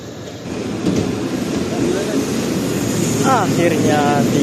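A commuter train rumbles steadily at close range arriving at Jatinegara station in Jakarta at night, a broad low roar with squealing brake or wheel tones rising near the end, as if slowing into a station.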